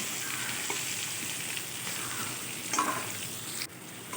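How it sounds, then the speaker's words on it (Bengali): Potatoes, salted and turmeric-coated, fry red in hot oil, giving a continuous close sizzle with a few soft stirring scrapes and a brief louder clatter near the end. "এখানে আলুটা আমার বেশ সুন্দর লাল করে ভাজা হয়ে গেছে"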